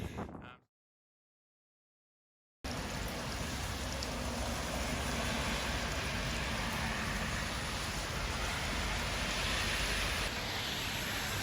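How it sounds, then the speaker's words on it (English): Heavy rain pours steadily and loudly after a short silence, a dense hiss of drops with no voices. "Yeah, it's raining."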